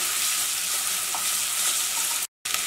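Onions and curry leaves sauté in a pan with a loud, dense, even sizzle that runs unbroken until a brief cut of silence near the end, then resumes.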